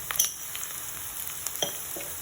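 Onions fry in a pan as ginger garlic paste goes in for a simple dal, with a soft steady sizzle and a few sharp stirring knocks, close and without voices.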